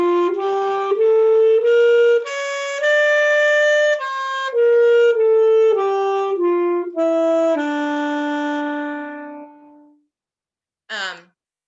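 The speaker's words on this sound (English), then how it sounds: "And so the melodic minor then sounds like this." A wind instrument plays a melodic minor scale, rising then falling through clean, sustained single notes in steady succession, close and alone, ending with a brief separate blip after a short pause.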